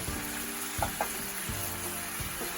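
Meat browning in a hot pan for Scottish stovies, a steady bright sizzle and crackle throughout, with a few soft stirring knocks and scrapes against the pan.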